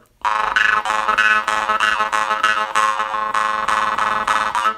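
Jaw harp snoring imitation played on outward breaths: a loud, close, bright buzzing twang pulsing in quick repeated strokes over about five seconds, with no talking.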